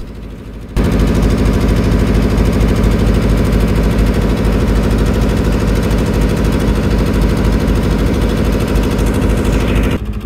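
A fishing trawler's engine runs on a canal through the Sundarbans. It starts abruptly, then holds a loud, steady, rumbling drone that stays close and unbroken for several seconds.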